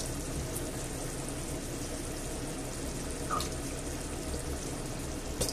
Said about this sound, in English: And of course, I've got to put some water in here.